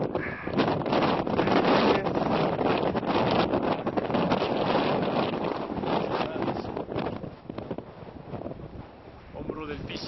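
Strong mountain wind roars and buffets the microphone high on Cerro Pissis in the Argentine Andes, a loud continuous gusting rush with brief voices faintly beneath.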